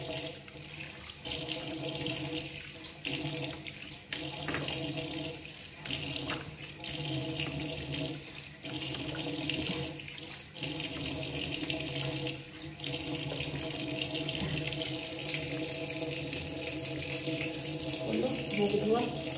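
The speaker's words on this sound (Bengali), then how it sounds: "মুখ ধোয়া" Tap water runs steadily from a sink faucet at bedtime face washing, a continuous close splashing flow with small shifts as hands move through the stream, and no talk over it.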